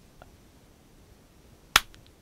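A single sharp hand clap for an audio sync test, one brief crisp snap near the end of an otherwise quiet stretch, preceded by a faint tiny tick.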